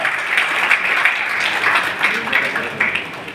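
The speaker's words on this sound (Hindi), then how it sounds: "जोरदार तालियों से स्वागत करें श्री शिक्षक।" An audience applauds to welcome a teacher at an honoring ceremony, a loud sustained burst of many hands clapping with slight swells, continuing steadily throughout.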